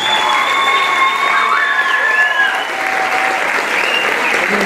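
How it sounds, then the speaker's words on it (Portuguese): Applause from a school audience honouring fifth-grade students at an evening excellence awards ceremony in Mação, loud and steady for several seconds, with cheering voices and tonal whistles or shouts rising over the clapping. "Para eles, uma grande salva de palmas."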